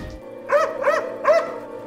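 A German Shepherd gives three quick, evenly spaced barks, fairly close and clear against a quiet background.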